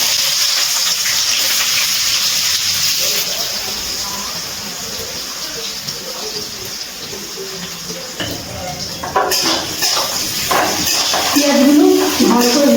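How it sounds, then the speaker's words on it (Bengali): Sliced onions frying in oil for a chicken curry give a loud, broad hiss that stays constant, with stirring clatter growing busier toward the end. "পেঁয়াজগুলো ভালো করে ভেজে নেব"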